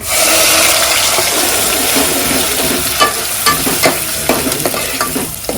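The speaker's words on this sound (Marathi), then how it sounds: "त्यानंतर आपण यामध्ये खोबरा आणि कांदा आणि टोमॅटो. त्याची पेस्ट घालतो" A paste of coconut, onion and tomato hits hot oil with garlic already fried reddish, giving a loud, steady sizzle with scattered stirring clatter and splashy bursts toward the end; no one talks.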